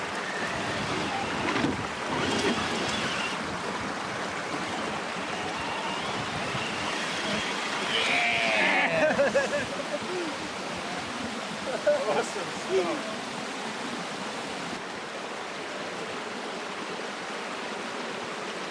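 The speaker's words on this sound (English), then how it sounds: "it's pretty good flow of water here" Steady rushing flow of stream water at Lesmurdie Falls in Kalamunda, a continuous broad wash mixed with wind noise, with someone briefly speaking over it.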